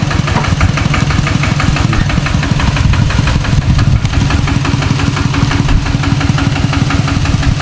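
A truck used for hauling pressed straw bales in rural Surin, Thailand, runs close by with a loud, steady, knocking engine rumble that throbs evenly throughout, with no voices.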